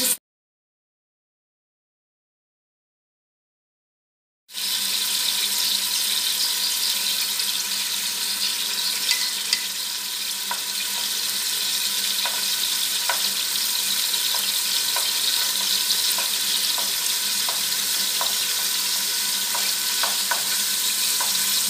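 Meatballs for a traditional mtouem brown in a frying pan, a loud, steady, close sizzle that starts abruptly after a few seconds of silence and carries on with occasional light clicks and pops.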